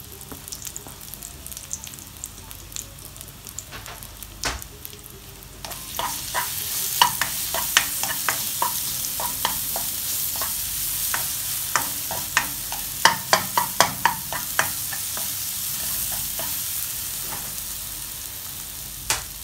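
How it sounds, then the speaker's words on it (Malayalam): Sliced banana goes into hot ghee in a pan. A quiet, low hiss jumps to a louder, bright sizzle partway through, peppered with sharp spatters and utensil clicks as it fries. "ഇതിൽ അല്പം നെയ്യ് ഇട്ട് കൊടുക്കാം. ഇനി ഇതിലോട്ട് നമ്മൾ കട്ട് ചെയ്ത് വെച്ച ബനാന ചേർത്ത് കൊടുക്കണം"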